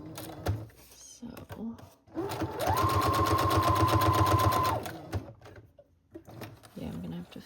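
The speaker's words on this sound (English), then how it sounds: "I'm gonna go ahead and just sew on the cover page while I sew on the inside cover page" A sewing machine stitches a Dollar Tree notebook's cover page in one steady, whirring run of about two seconds, close and fairly loud. Someone talks before and after it.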